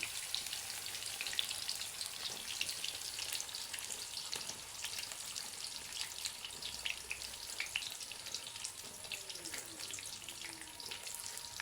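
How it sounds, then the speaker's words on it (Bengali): Pieces of hog plum (amra) sizzle in hot oil for a pickle, a steady crackling fry with occasional stirring scrapes close by and no voices. "এক এক করে আমড়াগুলো সব তেলে দিয়ে দেবো"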